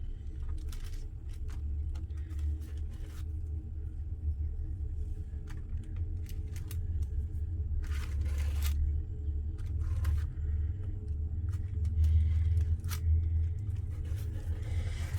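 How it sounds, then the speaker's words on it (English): A train passes through a small town at a distance, a low, steady rumble that swells gradually. It sits beneath close scraping and brushing sounds of paste being worked on paper. "we've got a train going by."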